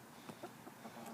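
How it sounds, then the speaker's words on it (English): Backyard hens let out of their coop, giving a few soft, short clucks in quick succession, faint and close against a low background hum. "let the chickens out of their house"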